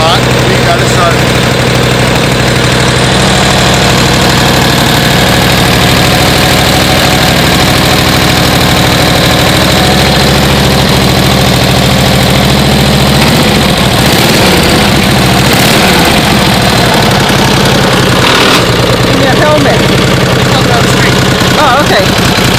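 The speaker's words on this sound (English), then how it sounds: "I have not tried to start this motorcycle before." A 1949 Harley-Davidson Panhead motorcycle with original paint idles steadily and loudly at close range, a continuous rumbling, slightly uneven engine note running throughout without pause.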